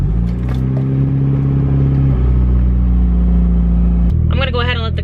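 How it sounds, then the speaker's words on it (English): Mitsubishi Evo 8 engine on a cold morning, a loud, steady rumble with shifting idle tones that settles lower, then a brief higher whine near the end. "I have a cold start."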